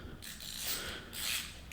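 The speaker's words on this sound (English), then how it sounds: "take a socket and loosen up your coils" A socket ratchet loosens ignition coils on a 5.7L Hemi engine, giving two short bursts of rapid clicking close by at moderate volume, with no speech.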